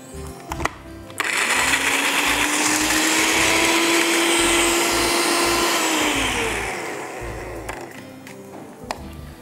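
Electric mixer grinder grinding red chili powder and spices in a home kitchen, a loud steady motor whine that starts abruptly, holds for several seconds, then winds down.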